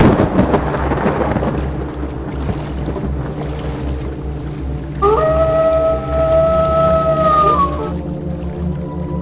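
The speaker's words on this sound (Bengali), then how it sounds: "বৃষ্টি তো বেশ জোরেই নামছে রে বাপ" Heavy rain pours down outdoors near a riverbank during a thunderstorm, with deep rolling thunder rumbling continuously and a steady tonal drone rising briefly in the middle before fading.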